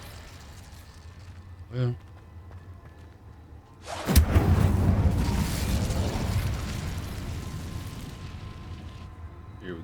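A sudden whooshing burst of flame from an Incendio fire spell in Hogwarts Legacy, erupting loudly and roaring on for several seconds before fading, with a brief voice beforehand.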